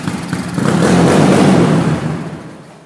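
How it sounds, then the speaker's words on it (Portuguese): A Maiki 351cc motorcycle engine fires on the electric starter and swells to a loud, rough idle that holds for a second or two before easing off, close by and alone. "Tô desacreditando que essa moto ligou na partida."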